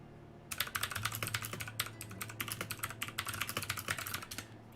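Fast, clattering keystrokes come from a loud mechanical keyboard, a dense continuous run of sharp clicks close to the mic over a low steady hum, with no voices.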